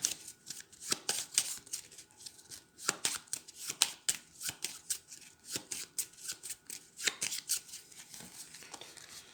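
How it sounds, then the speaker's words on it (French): Cards for the Dinoblivion board game being reshuffled by hand, a steady run of crisp riffling and flicking bursts repeating throughout, close and fairly quiet with no talk. "Et je remélange mes cartes pour piocher 4 nouvelles cartes."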